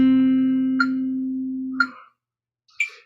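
Metronome clicks, three sharp ticks about a second apart, sounding over a sustained, fading guitar note that dies out before the last click.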